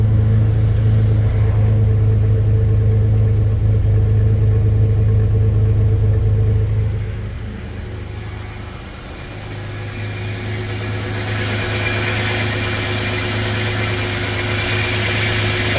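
Chevrolet S10 truck with a swapped 3.4 engine and an old 1986 pellet-style catalytic converter, idling with a loud steady drone, the pitch dropping briefly midway before settling into a smooth idle again.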